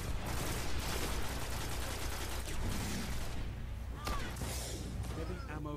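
Gunfire in a Destiny Crucible multiplayer match, including sniper rifle shots, rolls through a dense, continuous game soundscape of shooting and explosions, with a brief sharp crack near the end.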